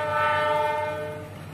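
A passenger train sounds its horn while running through a village, one loud sustained blast from close by that eases off slightly toward the end.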